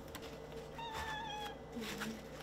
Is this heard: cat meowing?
yes